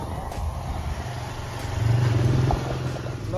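Motorcycle engine idling and briefly revving while the bike is parked on a crowded market street, a low rumble rising in the middle of the stretch over street background noise.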